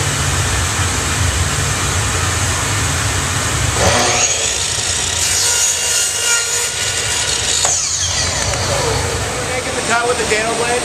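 A power saw, a table saw fitted with a dado blade, cuts a wooden piece for a candle holder: a loud steady whine with two rising bursts of rasping wood-cutting, near and constant.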